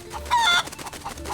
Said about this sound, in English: Seize that chicken!